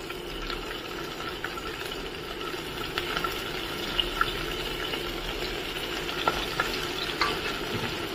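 Fish fried in oil in a home kitchen sizzles and crackles steadily, with scattered sharper pops and spatters throughout and no voices.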